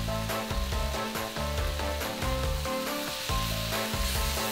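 Garlic hitting a hot wok, a steady loud sizzle that runs continuously with a rhythmic pulse of stirring or music beneath it, no talking.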